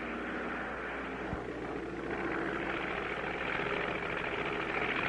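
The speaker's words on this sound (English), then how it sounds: "We're going to thread a needle with an airplane." Airplane engine in a 1959 Synchro-Vox cartoon, heard as a steady broadband drone with a low hum, rising slightly in loudness as the plane flies on, with no voices.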